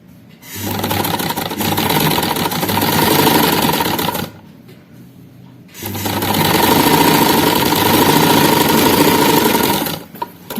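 A sewing machine stitches a kameez strip in two long, loud, steady runs of rapid whirring, separated by a short pause, with a brief click near the end.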